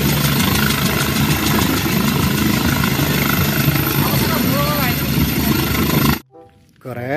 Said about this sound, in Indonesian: Ada helikopter, teman-teman.